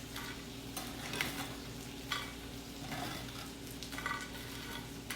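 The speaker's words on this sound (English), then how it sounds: "you can hear how crispy they are when they hit the pan. Or the plate, rather." Crispy fried potatoes with bits of fried garlic tumble and scrape onto a plate, giving scattered crackly clatters over a steady low background hum, fairly quiet and close.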